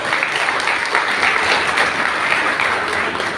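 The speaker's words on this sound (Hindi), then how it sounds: "सभी लोग जोरदार तालियों के साथ मेरा स्वागत करें।" An audience at a church Independence Day celebration applauds loudly, a thick continuous roar of clapping that stays strong from start to finish.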